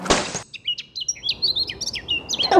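Migratory birds on a stopover site give a string of quick, bright chirps and tweets, close and distinct, with a short burst of noise at the start and end.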